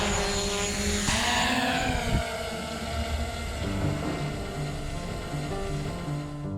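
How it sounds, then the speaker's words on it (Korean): A drone lifts off and flies over the Sihwa MTV development area, its propellers giving a steady, loud whirring buzz throughout. "신생아를 다루듯 조심스럽게 날개를 펼치고 이제 날려봅니다."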